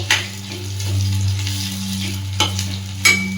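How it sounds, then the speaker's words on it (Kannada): Capsicum cubes and fresh green peas frying in a little oil, with methi in the pan, for paneer butter masala: a steady close sizzle with a low hum underneath and a few sharp stirring scrapes near the end. "ಇದು ಸ್ವಲ್ಪ ಎಣ್ಣೆಲೇನೆ ಫ್ರೈ ಆಗಲಿ ಕ್ಯಾಪ್ಸಿಕಮ್ಮು"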